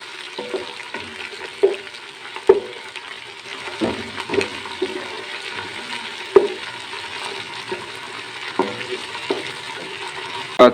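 Ginger garlic paste frying in hot ghee in a pan, a soft steady sizzle with occasional stirring scrapes and clinks, close and fairly quiet, no talking.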